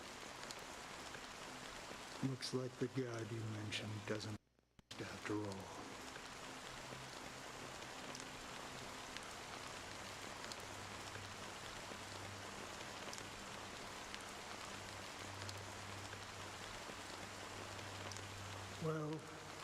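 Steady rain falling in a Honkai: Star Rail game cutscene, an even, moderate wash that continues under a line of dialogue and a few soft effects.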